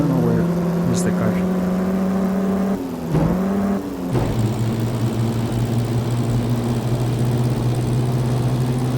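A steady racing-car engine drone in Assetto Corsa, during a 1935 Grand Prix de Lorraine online race, hums with a shifting pitch, briefly dropping and surging before settling into a lower, rougher tone that carries on continuously.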